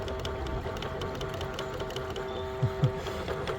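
An LDRC LD1299 RC crawler car drives on low range throttle, a faint continuous motor whir with a couple of brief knocks near the end.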